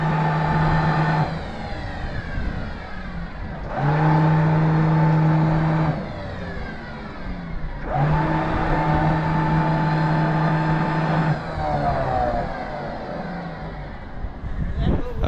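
A boat's bow thruster runs in repeated bursts, each a loud, steady whine with a low hum beneath, separated by short pauses.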